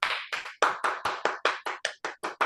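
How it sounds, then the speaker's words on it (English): Sharp, evenly spaced hand claps, about a dozen in a quick steady rhythm, close and distinct with short silences between, from a children's class giving itself a round of applause. "Give yourself a round of applause"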